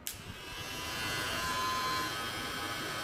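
Soft, steady electric whirring of a small Nova NHT 1083 hair trimmer, faint and continuous after it switches on, with no talking.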